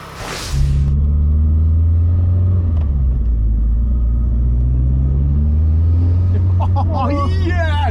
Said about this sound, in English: You hear that turbo sound?